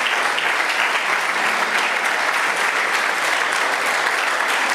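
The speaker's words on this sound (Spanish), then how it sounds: "¿Cuántos se atreven a aplaudir el nombre del Señor?" A church congregation applauds steadily and loudly throughout, a dense, sustained clapping that fills the space without a break and with no talking over it.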